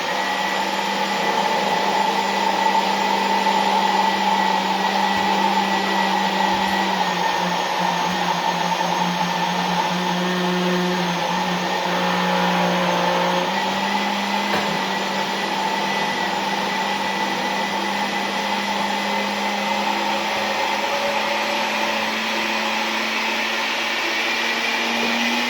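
A blender runs with its lid on while making cottage cheese flatbread batter, a loud steady whine that holds for the whole stretch with a slight shift in pitch partway through.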